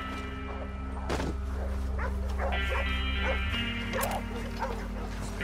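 Several dogs bark and yip in Red Dead Redemption 2, sharp repeated barks scattered over a low game drone, loud and close, with a few whimpering yelps mixed in.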